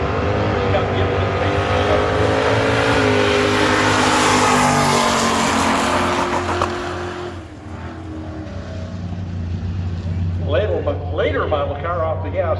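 A pair of Ford Mustangs, one later model and one early model, thunder down a drag strip at a drag race, engines roaring loudly and steadily before dipping and building again as they pass.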